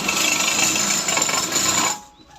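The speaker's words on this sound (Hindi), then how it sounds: "इस पे एक पैर की सिलाई मार देंगे ताकि मार्जिन नहीं पलटे" A sewing machine runs steadily and loudly, stitching the hem of a palazzo or sharara trouser leg for about two seconds before it stops abruptly, with no voices.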